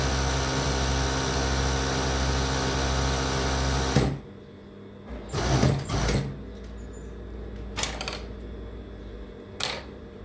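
A sewing machine stitching the hem of a pajama leg: a steady whirring run for about four seconds, then stops with a few short bursts of stitching, close up with no talk.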